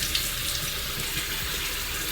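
Water streams steadily from a tap, a continuous close wash with no pauses while someone rinses face cleanser off their skin at a sink.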